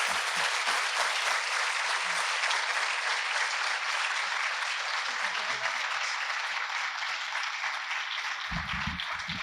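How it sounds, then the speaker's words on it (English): Sustained audience applause fills a university auditorium during a fall State of the University address, steady and dense throughout as the president walks onto the stage. "Let's give him a round of applause as he makes his way onto stage."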